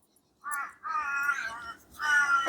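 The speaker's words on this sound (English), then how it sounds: "My birds are wanting to get fed." Pet birds call insistently to be fed, with harsh, crow-like caws in three close bursts at moderate volume, separated by short gaps and heard alone without talk.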